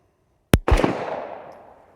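A single loud, close gunshot from a Liberty Overwatch 72-grain round: one sharp crack followed by a booming echo that fades over about a second and a half.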